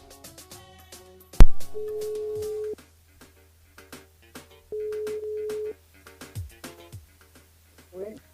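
Telephone line ringing on a radio station call-in switchboard, two long steady ring tones spaced apart, fairly loud, with scattered talk and noises between them.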